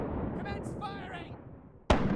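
Ship cannon fire in the pirate game Rise of Piracy, with a single sharp, loud boom near the end following a stretch of background rumble and voice.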